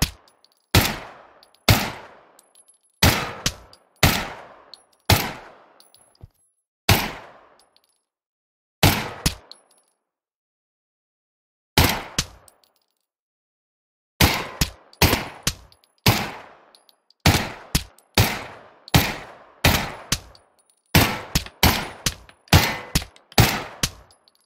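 Gunshots at targets in the VR shooter game Pavlov, loud single cracks with ringing tails, fired in irregular groups with short pauses and one long gap, then quicker strings of shots toward the end.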